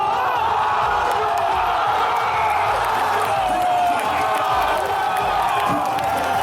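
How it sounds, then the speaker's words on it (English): A large esports crowd roars and cheers at a Super Smash Bros. Melee tournament on a major stage, a loud, sustained wall of voices that fills the whole span without pause. "the crowd erupts as Axe pops off."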